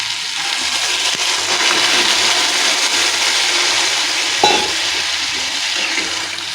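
A pan of pumpkin and potato curry fries with a steady, loud hiss and sizzle as water goes in, with faint stirring bumps underneath and no talking.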